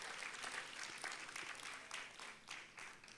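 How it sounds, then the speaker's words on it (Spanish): A church congregation claps during a service, a dense round of applause heard from across the room that rises and falls slightly over a few seconds. "Si le vas a dar un aplauso al Señor,"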